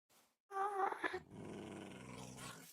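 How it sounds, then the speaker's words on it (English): A dog growls in the Minecraft modpack GregTech: New Horizons, a drawn-out, rumbling snarl that starts loud after a brief faint sound, then settles into a steady, lower growl heard alone without talk. "Is that a dog?"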